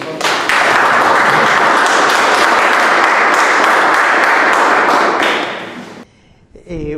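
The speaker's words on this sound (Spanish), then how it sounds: "pido un aplauso para el profesor" Audience applause welcoming a professor at a talk on orchestras, a dense, steady wash of clapping that fills about six seconds, then cuts off sharply into near silence with a brief voice at the end.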